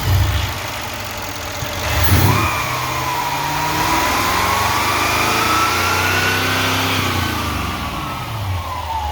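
Twin-turbo engine of a 2017 Mercedes GLE 63 revs sharply from idle, a quick rising roar that peaks and slowly falls back, with a higher whine tracing the revs before settling near idle again.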